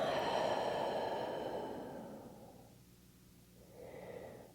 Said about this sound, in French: Ouvre la bouche et expire.